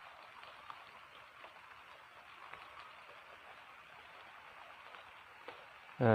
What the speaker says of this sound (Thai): บรรยากาศตอนนี้ฝนตกปล่อยๆเลยครับผู้ชมครับ